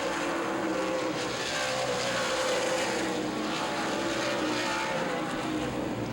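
Race cars roar around the oval at Baer Field Speedway in a dense, continuous engine drone that stays loud and unbroken, with no distinct pass-bys standing out.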